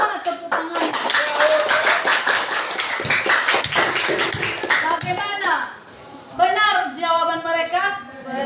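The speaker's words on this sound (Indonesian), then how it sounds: "Tepuk tangan dulu untuk kelompok." Schoolchildren in an Indonesian classroom clap for a student group, a burst of many hands clapping rapidly and irregularly, fading out midway, then children's voices and a teacher talking.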